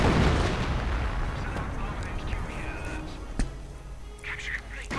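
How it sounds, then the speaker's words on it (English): Mortar rounds and artillery fire boom through a strategy video game battle. Low rumbling blasts are followed by a sharp impact midway and scattered lighter hits, and a voice is faintly present. "Sabres moving forward. Mortar rounds."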